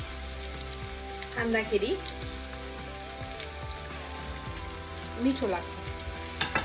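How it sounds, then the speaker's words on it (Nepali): Chopped garlic and potatoes fry in a pan for a potato curry, giving a steady close sizzle throughout with brief stirring clatters, while a voice speaks a few words over it. "यो काटेको लसुन र आलुलाई म एकैचोटि फ्राई गर्छु"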